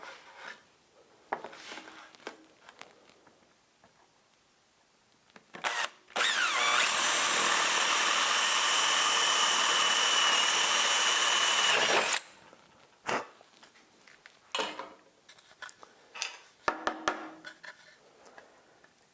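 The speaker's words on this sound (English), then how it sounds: "I'm just going to take and drill a 3/8 hole for my bolt." A power drill bores a 3/8-inch hole in scrap wood, running steadily for about six seconds, loud and close, bracketed by quieter handling clicks and knocks before and after.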